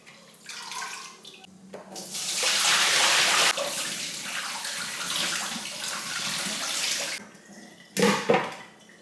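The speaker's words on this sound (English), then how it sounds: "I'm gonna go ahead and rinse the strawberries." Running tap water splashes over strawberries being rinsed in a kitchen sink, with a steady rushing stream that swells and eases and then stops. A few clinks and splashes come near the end.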